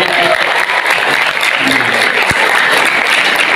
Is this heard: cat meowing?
no